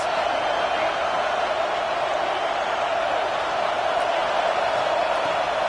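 A stadium crowd roars during a big third-down red-zone defensive stand in a college football video game between Texas and LSU, a broad, steady wash of cheering that holds loud and even throughout.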